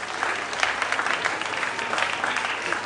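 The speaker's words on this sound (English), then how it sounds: "Ladies and gentlemen, a round of applause, please." An audience at a school debate competition claps steadily for the whole stretch, a dense, even patter of many hands with no talking over it.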